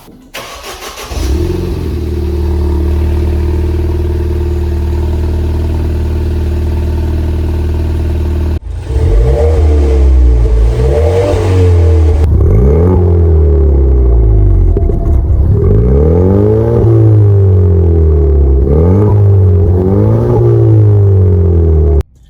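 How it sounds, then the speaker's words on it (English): A Ford Fiesta ST engine with a Milltek non-resonated exhaust idles with a deep, loud burble, then revs hard several times in rising, snarling bursts that fall back to a rumble. "I'll give you a comparison for before the old exhaust and the new exhaust"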